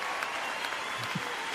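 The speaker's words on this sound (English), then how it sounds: "Wait, the clapping," A canned applause sound effect plays as a steady wash of many hands clapping, fairly quiet and continuous, with a faint voice murmuring underneath.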